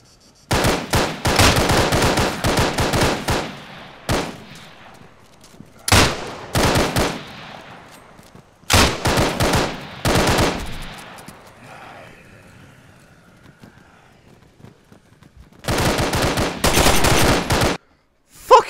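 Loud bursts of automatic gunfire from ARMA 3, Breaking Point mod, come in several separate volleys with quieter gaps and fading echoes between them.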